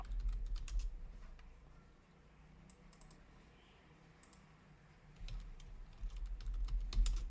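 Computer keyboard keys clatter steadily while shortcuts are entered, soft close clicks in irregular bursts over a low background hum, louder toward the end.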